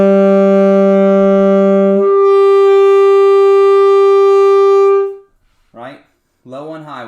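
A saxophone plays a steady, loud low E and then moves up to a sustained high E, two long held tones with no gap between them. A brief voice follows at the end.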